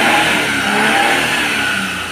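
A Maruti Alto 800 car engine fitted with a new silencer revving, close and loud, with a continuous mid-pitched engine roar that holds steady throughout, without speech.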